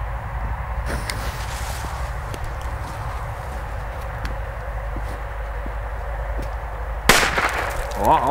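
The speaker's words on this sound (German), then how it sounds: "B-Böller von Vico." A Weco B-Böller firecracker explodes outdoors with a single sharp, loud bang near the end, preceded by quiet ambient rustle and faint footsteps.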